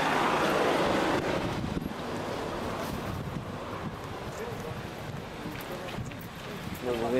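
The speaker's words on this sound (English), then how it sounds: "A little windy out here today." Wind rushes and buffets the microphone in a steady outdoor roar on Catalina Island, with people talking faintly underneath.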